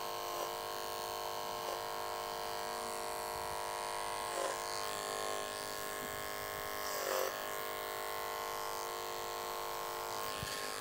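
A hair clipper with a blending blade runs a taper on a men's undercut, giving a constant close electric buzz throughout with small shifts in tone as it moves through the hair.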